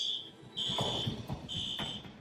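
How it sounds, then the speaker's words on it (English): Door alarm at Dubai airport sounds as an inspection passes between arrivals and departures: a loud, steady electronic beeping tone in long pulses with a brief gap, over faint background murmur and footsteps. "a door alarm working normally as the inspection crosses secure areas"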